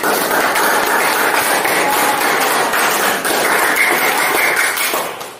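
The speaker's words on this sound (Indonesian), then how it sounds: "Tepuk tangan." A loud, sustained round of clapping from a class group fills the whole stretch, dense and even, then tapers off at the end.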